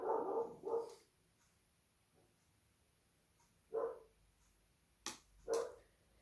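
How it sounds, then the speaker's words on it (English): Two pet dogs, Shadow and Rosie, bark in short bursts at a distance: a quick pair of barks, a pause, then another bark and a final sharp double volley in a quiet room. "My doggies are at it again. Shadow and Rosie."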